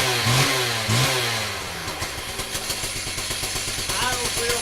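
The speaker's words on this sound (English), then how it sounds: "Idles real good. It's a very nice saw." A STIHL TS360 chop saw two-stroke engine revving briefly after starting, then settling into a steady, even idle close to the mic, with someone speaking over it.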